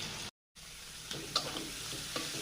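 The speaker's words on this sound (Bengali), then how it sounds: "এবার আমি চিংড়ি মাছগুলো দিয়ে আর লবণ হলুদ দিয়ে ভেজে নেব" Prawns fry in a pan with salt and turmeric, a quiet, steady sizzle after a brief gap, with a few light clinks and stirring scrapes, close and alone.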